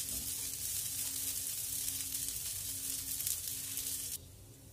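Three cassava arepas roasting on a hot griddle give a soft, steady sizzling hiss at low level that drops away abruptly near the end.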